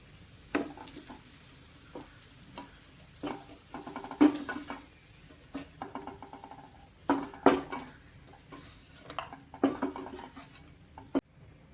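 Butter-roasted cashews and raisins are scraped from a pan onto a plate, with scattered metallic clinks and scrapes of a spoon against cookware, close and intermittent.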